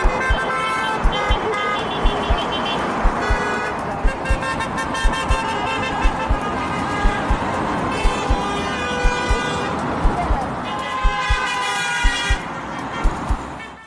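Car horns toot again and again from passing traffic at a roadside protest in the United Kingdom, short loud honks recurring about every second over a steady hum of engines and road noise.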